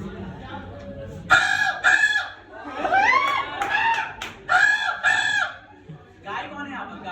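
A person vocally imitates a crow's caw, giving a series of loud, harsh, nasal bursts in quick groups, with a crowd faintly audible behind.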